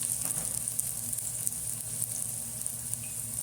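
Chicken pieces fry in a pan with garlic, onion and ginger for Filipino chicken adobo, giving a steady, close, continuous sizzle and crackle with no talking.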